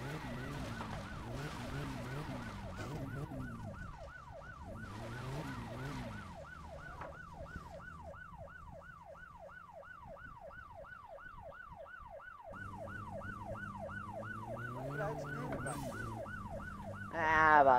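Wailing police sirens in the video game My Summer Car cycle rapidly and continuously over a droning engine, the electronic-sounding siren sweeping up and down for many seconds.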